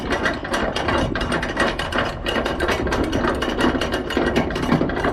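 A trailer winch is cranked up by hand, giving a loud, rapid, continuous run of ratchet-and-pawl clicks with a steady mechanical rhythm, close and alone without talk.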